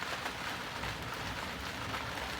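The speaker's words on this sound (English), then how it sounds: "the rain has started" Steady rain patters on a sailboat cockpit on the Neuse River, a continuous soft hiss of drops with no voices.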